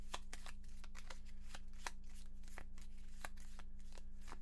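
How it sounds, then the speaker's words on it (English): Cards for the Gloomhaven board game are riffled and shuffled in a quiet room, producing a quick series of crisp flicks and snaps over a low steady hum. "More shuffling."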